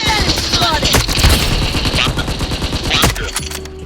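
Loud rapid automatic gunfire from a shooting video game rattles in dense bursts, mixed with sharp single shots and game effects, close and continuous throughout.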